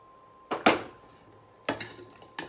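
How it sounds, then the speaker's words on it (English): Spoon knocking and scraping in a metal pot as turmeric, salt and red pepper powder are stirred into the food, a few distinct clanks at close range with quiet gaps between them. "And just give it a big stir."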